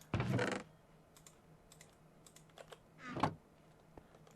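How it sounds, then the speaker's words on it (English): A wooden chest in Minecraft shuts with a short creaky thud, a burst near the start and a second softer thump about three seconds later, with faint clicks between. "I think it's the noise of the chest closing"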